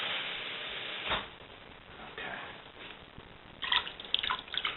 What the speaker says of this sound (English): So I want just a little bit more water here.